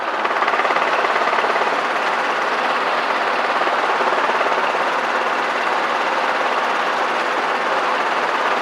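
Steady, loud drone of a small aircraft engine during a landing approach to an airport, continuous and unbroken with a buzzing, rattling texture throughout.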